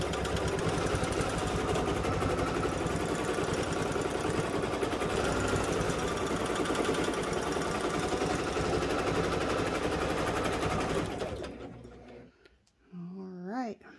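A Baby Lock Jazz II sewing machine stitches steadily with a dense, rapid mechanical whir, close and loud for about eleven seconds, then winds down and stops, followed by brief talking.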